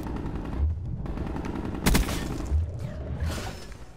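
Gunfire in Call of Duty, a steady run of close shots with a sharp loud report near the two-second mark, no talking over it.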